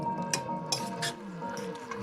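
Instant chili pan mee noodles are stirred in a pan, with a few light metallic clinks and scrapes of a utensil against the pot over a quiet background.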